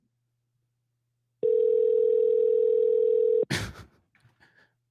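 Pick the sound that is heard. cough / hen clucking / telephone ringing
telephone ringing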